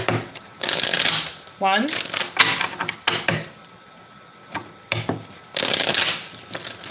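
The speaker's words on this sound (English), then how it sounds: "let's see, 2 more shuffles." A deck of tarot cards is shuffled in several quick, crisp riffling bursts, close and fairly loud, alternating with a person talking.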